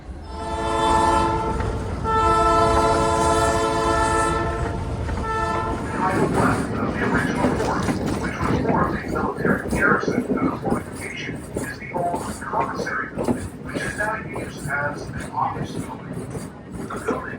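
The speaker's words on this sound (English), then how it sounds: "The Skunk Train in the Redwoods." Skunk Train locomotive passing through the Redwoods sounds a long, loud multi-tone horn blast, then gives way to a steady rumbling roll and rhythmic clatter of railcars.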